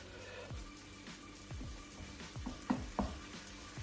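Shrimp sautéing with garlic and parsley in a hot pan, a steady soft sizzle with a few scraping stirs and light clinks near the end.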